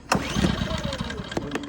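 A gasoline generator catches and fires up after a pull-start, a sharp burst of cranking settling into a steady running drone, close and fairly loud.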